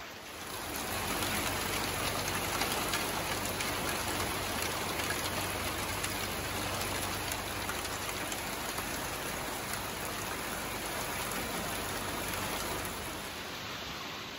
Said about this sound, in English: I told you it was gonna rain.